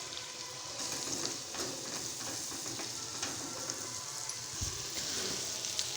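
Finely chopped tomatoes frying in a pan, a soft steady sizzle with faint crackles and light stirring, close by and fairly quiet, with no voices.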